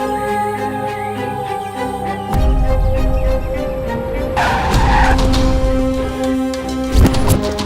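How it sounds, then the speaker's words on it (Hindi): Car skidding hard to a sudden stop, a broad loud burst of tire and body noise under a continuous music score in a dubbed South Indian action film scene. "सडनली गाड़ी रोककर यहाँ क्यों आए हो?"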